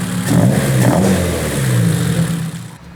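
An engine with individual throttle bodies on a dyno revs with the throttle cracked open, rising and falling in short loud bursts over about two and a half seconds, then drops away as the throttle closes.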